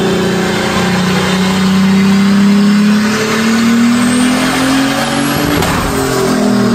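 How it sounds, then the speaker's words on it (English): Turbocharged engine of about 340 horsepower, making boost from 4 psi, revving hard on a dyno, its pitch climbing steadily through a sustained loud pull with whining overtones. "Here's a clip of it on the dyno."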